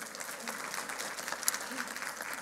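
A church congregation applauding the Lord, steady moderate clapping from a crowd throughout, somewhat distant, with faint voices underneath.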